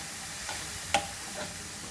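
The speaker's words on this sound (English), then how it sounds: "And now we will roast our coconut." Coconut roasts in a dry pan without oil, a faint sizzle broken by a few brief scraping strokes of a spatula, one sharper clink near the middle, close and quiet with no voices.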